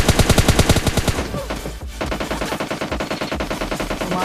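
Rapid automatic gunfire from a PUBG Mobile Lite match, with a dense burst of shots at the start, a short lull, then steadier repeated firing continuing to the end.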